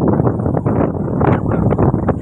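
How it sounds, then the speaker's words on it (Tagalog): Strong wind gusting outside a house in the street, roaring as loud, steady rumbling buffeting against the microphone with surging gusts throughout. "Sobrang lakas ng hangin."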